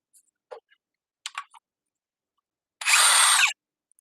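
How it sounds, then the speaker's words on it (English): Power driver running a 4-inch timber lock screw, with a few scattered clicks and knocks followed by one short loud whirring burst of the motor, close and alone. "I literally just tried putting 2 4-inch timber locks in"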